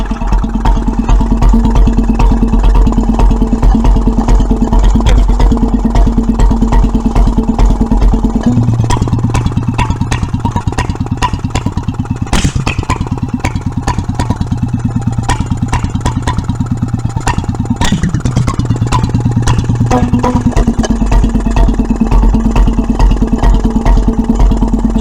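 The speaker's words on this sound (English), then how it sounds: "It's running with a lower governor spring than what it's supposed to have." A 1925 Petter M 1 1/2 HP vintage stationary engine running on a lowered governor spring, a steady loud close chugging that shifts in pitch midway and then settles back, with no one talking.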